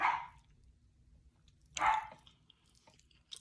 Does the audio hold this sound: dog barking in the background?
yes